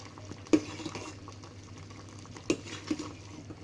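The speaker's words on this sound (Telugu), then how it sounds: "ఇలా కలుపుకుంటూ కొద్దిసేపు ఇలా ఉండనివ్వండి." Sabudana (sago) payasam is stirred in a pot, producing quiet scraping and a few soft knocks against the pot over a low, steady bubbling background.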